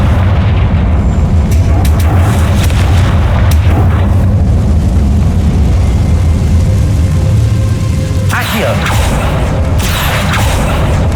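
Loud booming blasts from the Confringo fire spell in the Hogwarts Legacy video game, a sustained dense rumble with a sharper burst partway through, dominating everything.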